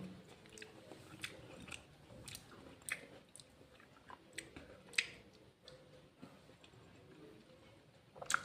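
Someone eats segments of a sweet winter orange close to the mic, with soft, irregular chewing, small wet smacks and occasional crisp clicks in a quiet room, and no talk.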